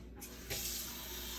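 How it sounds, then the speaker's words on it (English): Water is poured into a pan for making chocolate gravy, a soft splashing pour that starts about halfway through and keeps going steadily at moderate volume, with no talking. "So she's gonna put some water in hers."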